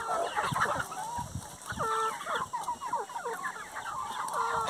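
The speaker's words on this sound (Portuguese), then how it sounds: "olha o tamanho da minha franguinha" A hen clucks close by on a rural farm, giving a run of short, repeated clucks and cackles, with other chicken calls overlapping in the background.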